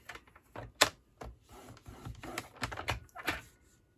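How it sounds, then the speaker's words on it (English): Paper scoring board creasing cardstock for a Halloween shadow box card: a string of close, sharp clicks and scraping strokes, irregularly spaced and moderately loud, with no talking. "I'm going to score it at 1/2 inch again"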